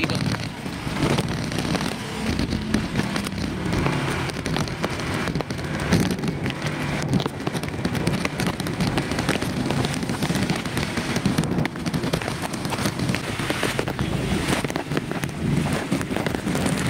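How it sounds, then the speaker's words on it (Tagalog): Dense, steady roar of heavy typhoon rain during Typhoon Carina flooding in Marikina, pouring without pause, loud and continuous throughout with a broad wash of noise. "Grabe yung lakas ng ulan mga master."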